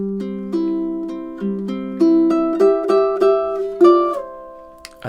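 Ukulele picking the melody of a song, measures 7 and 9 joined, a bright run of plucked notes in a lilting rhythm, close and clear with nothing else heard.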